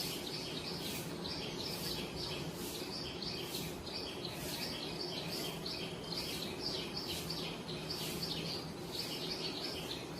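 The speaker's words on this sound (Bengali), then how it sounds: "চারিদিকে পাখির ডাক" Birds call all around a village garden with drumstick and coconut trees, a dense, continuous chorus of chirps and short repeated phrases at moderate distance over steady insect hum, with no talk.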